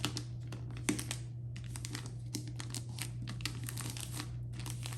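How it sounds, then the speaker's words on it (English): Wrapping paper folded and creased around a gift box, a close, dense run of crinkles and crackles with a few sharper rustles. "Fold it down and you've got nice clean edges"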